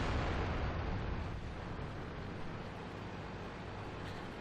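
Tank battle in World of Tanks on the Siegfried Line map, a dense continuous rumble of explosions and gunfire fading slightly after the first second and holding as a heavy, loud wash with no speech.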